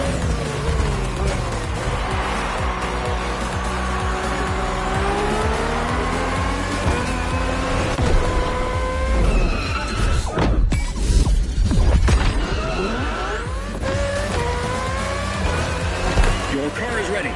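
A race car engine roars and revs through gear changes in The Crew Motorfest, with tire squeal and skidding on a circuit, loud and continuous, while a game announcer's voice speaks over it.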